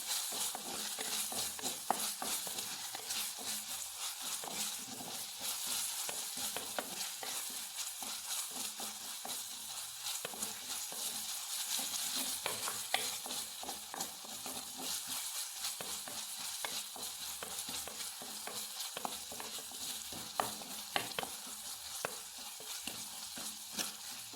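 Crushed chillies sauté in a hot pan, a steady sizzle with frequent scraping stirs throughout, close and fairly quiet, no talking.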